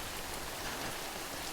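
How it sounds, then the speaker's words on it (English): Steady timefall rain hissing down in Death Stranding, a dense, even wash of drops with no talk over it. "Just fall asleep in the middle of the time rain."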